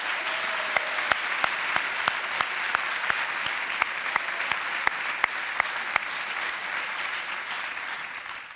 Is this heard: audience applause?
yes